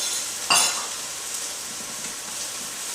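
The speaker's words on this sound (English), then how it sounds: "Give it a nice stir so that all the cornstarch is incorporated" A brief scraping swish of a spoon stirring beef and broccoli in a glossy cornstarch sauce, followed by a steady low sizzle from the pan, close and moderately loud with no talking.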